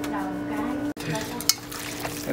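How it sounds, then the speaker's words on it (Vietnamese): Food frying in a pan while a home cook stirs, with steady broadband sizzle, a brief cut-out partway, and occasional light utensil scrapes over a continuous hiss. "Chiên chín mà cứ từ từ nó chiên."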